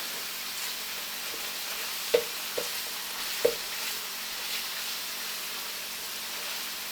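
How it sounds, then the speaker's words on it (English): Steady sizzle of anchovies frying in oil fills the clip, with a few soft utensil clicks and scrapes as they are stirred in the pan. "I'm going to stir this around."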